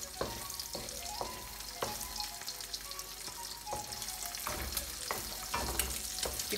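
An egg fries in oil in a Chinese wok, producing a constant close sizzle broken by light scraping clicks as it is stirred.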